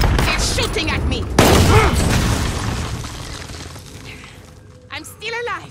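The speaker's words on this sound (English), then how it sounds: "They're shooting at me!" Warzone game gunfire: a burst of sharp shots and booms, then fading noise and a few closer crackles later, mixed under excited shouting.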